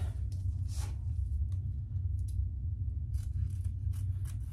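Scissors snip away excess material on a handmade faux snakeskin crossbody bag, a series of short, crisp cuts at close range over a low background rumble, with no speech.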